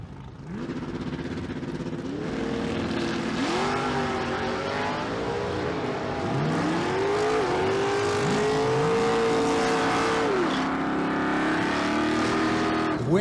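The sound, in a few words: drag race cars launching, incl. 73 Mach 1 Mustang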